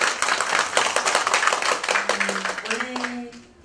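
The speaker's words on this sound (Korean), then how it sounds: "큰 박수 부탁드리겠습니다" Applause from the audience at a Korean lecture, dense clapping filling most of the stretch and thinning toward the end, with a voice coming in over the last part.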